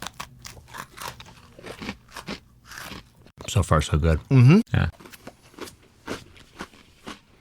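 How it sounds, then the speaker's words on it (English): Crunching bites and chewing of mint chip ice cream come close to the mic in a short burst midway, with people talking briefly before and after. "there's definitely a noticeable presence of crunchiness in the cream"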